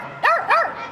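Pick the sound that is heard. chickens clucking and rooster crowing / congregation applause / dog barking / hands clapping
dog barking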